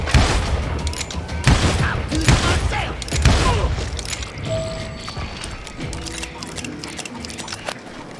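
Enemy gunfire in the western shooter Call of Juarez Gunslinger, several loud close shots and booms in the first few seconds, then quieter scattered shots and mechanical clicks trailing off.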